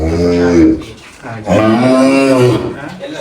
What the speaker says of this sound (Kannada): ಈಗ ಒಂದು ಮೂವತ್ತ ಮೂರು ದನಗಳಿದ್ದಾವೆ